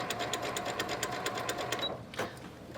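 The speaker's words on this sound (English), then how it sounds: "So I'm going to sew, that's how you sew these corners on." A sewing machine stitches quilt block corners with a fast, even rapid stitching rhythm that stops abruptly near the end, followed by a brief clunk.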